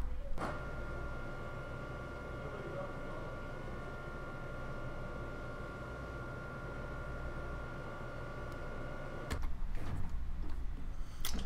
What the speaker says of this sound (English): All right, doors closed, we're good to go.